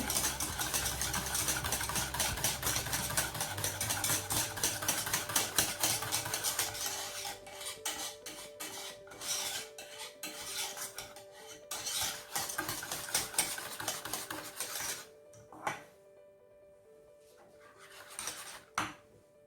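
Japanese cheesecake batter is stirred in a bowl, with brisk scraping and clinking of a utensil against the bowl, dense at first and then thinning into sparser, quieter strokes with pauses toward the end.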